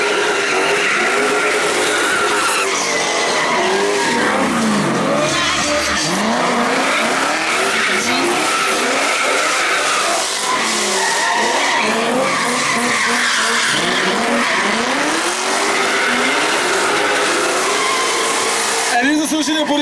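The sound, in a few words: cars drifting with skidding tyres at drift show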